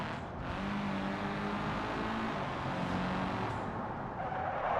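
A video-game truck slides and skids with a steady, loud tire and engine roar that runs without a break, with no voices over it.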